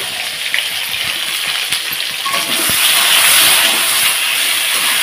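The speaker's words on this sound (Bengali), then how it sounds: "এখন এটাকে ভালোভাবে আলুটাকে আর বেগুনটাকে ভেজে নেব" Potatoes and eggplant frying together in a pan with salt, giving off a loud, steady hiss and sizzle close up that swells partway through and stays continuous, with no talking.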